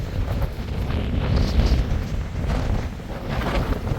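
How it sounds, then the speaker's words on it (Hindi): Strong wind gusting across a mountain viewpoint in Harsil Valley, Uttarakhand, roaring and buffeting steadily into the microphone with a heavy low rumble, loud and continuous with no talking. "बहुत तेज हवा चल रही है, इवन फोन मजबूती से मैं पकड़ूं तो हाथ से उड़ जाएगा।"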